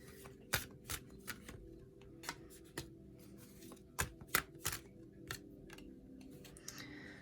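Tarot cards being handled during a reading: a quiet sequence of soft, sharp card snaps and flicks scattered irregularly over several seconds, with no talking.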